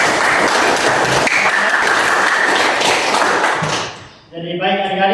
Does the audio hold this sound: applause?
yes